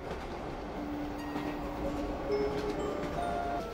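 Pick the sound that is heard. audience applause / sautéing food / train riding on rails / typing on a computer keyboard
train riding on rails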